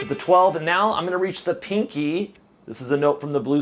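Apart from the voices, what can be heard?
No everyday noise stands out behind the speech.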